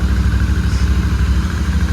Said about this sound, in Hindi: तो GT की ये आवाज़ है रॉ एग्जॉस्ट के साथ।